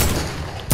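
An AK rifle in a video game fires a short burst of rapid shots, loud and close, cut off after under a second.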